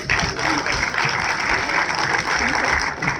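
Sustained applause from a rally crowd, steady and dense throughout with no break, the clapping spread wide like a large audience gathered before a speech by minister Nitin Gadkari.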